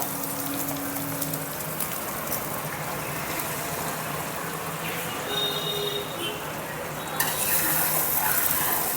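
Eggs are stirred and fried in a pan while making egg chapathi, with a continuous crackling sizzle and soft scraping that run steadily, with occasional light clinks of utensil on pan.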